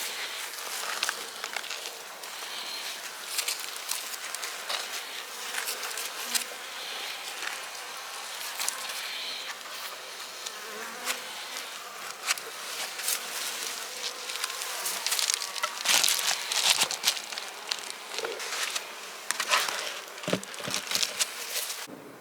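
Honeybees buzz around beehives in a beekeeping yard ahead of a snow and ice storm, a soft, steady hum with frequent close crackling, rustling and handling noises.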